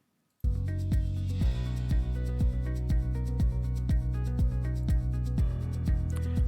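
A music track plays after a brief silence, a steady upbeat beat with regular percussive hits and layered tones, moderately loud and continuous.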